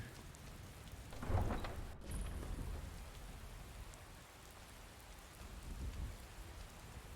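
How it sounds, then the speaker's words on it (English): Steady rain falling in the Skyrim video game, a continuous soft hiss with a low rumble swelling briefly near the start and again later, no voices. "Seems the rain is finally letting up."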